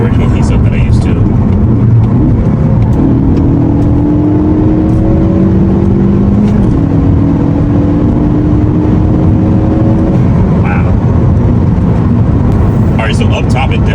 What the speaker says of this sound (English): Gonna go ahead and downshift and floor it